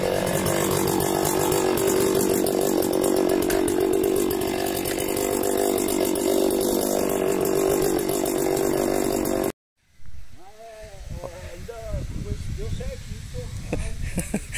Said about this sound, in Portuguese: já peguei o soprador para fazer aí a limpeza na calçada, soprar